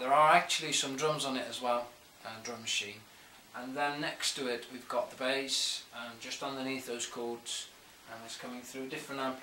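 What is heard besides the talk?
No everyday noises stand out.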